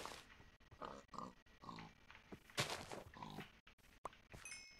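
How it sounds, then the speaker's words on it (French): Pigs grunt and oink in a French-language video game set on open plains, several short bursts in an irregular rhythm, close and fairly loud, with no talk over them. "il y a plein de cochons ici"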